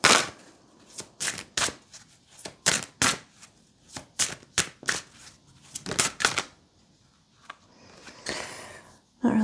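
A deck of tarot cards is shuffled repeatedly in sharp riffling bursts, close and crisp, with brief pauses between shuffles.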